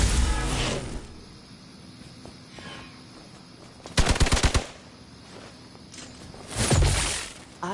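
Gunfire in the video game Midnight Suns: rapid bursts of shots rattle out at intervals over a low game ambience, with loud clusters near the middle and end.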